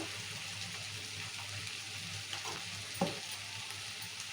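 Quiet, steady sizzle of ivy gourd curry frying in a pan as ginger-garlic paste and salt are stirred in, with a couple of faint scrapes over the continuous hiss.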